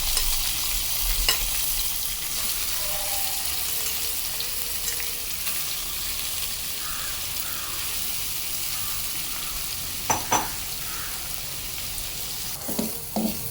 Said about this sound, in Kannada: ಈಗ ನಾನು ಈ ಆಗ್ಲಿಕಾಯಿನ ಹಾಕ್ಕೊಂಡು ಚೆನ್ನಾಗಿ ಹುರ್ಕೊಳ್ತೇನೆ